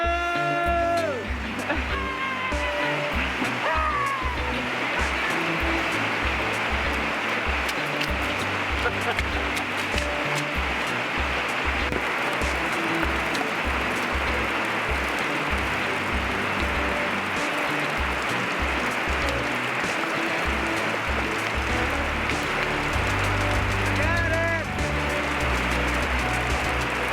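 Heavy rain pours down steadily as a broad, dense hiss throughout, with low rumbling thuds and a person talking over it while trying to catch runoff for a 55-gallon barrel.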